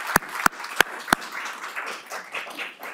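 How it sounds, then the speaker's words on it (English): Audience at a Rancho Palos Verdes city council candidates forum gives a few sharp, loud claps up close, then a sustained crowd applause patters on more softly for the rest of the stretch. "I'd like to ask you all to also give the candidates a round of applause."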